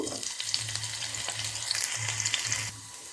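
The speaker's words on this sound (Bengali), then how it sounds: "প্রথমে আমি আলুগুলো ভেজে নেব।" Potatoes frying in oil give a steady close sizzle, with a low rhythmic hum pulsing underneath, continuing throughout and then easing slightly near the end.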